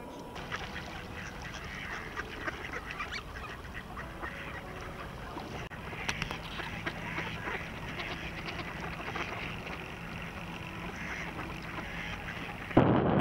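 Greater scaup and mallards on a patch of open winter water in Tver, with scattered, moderately faint quacks over a steady watery background.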